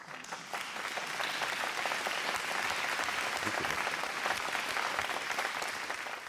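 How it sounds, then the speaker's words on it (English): Audience applause for a speaker on a Broadway stage in New York City, dense, sustained clapping from a large crowd at steady volume throughout. "So please give a big round of applause for Dr."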